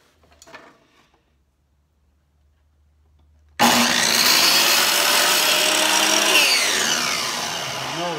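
A miter saw spins up and cuts through wood for a hutch build, loud and close, with a sustained whining rip after a quiet start with faint handling sounds.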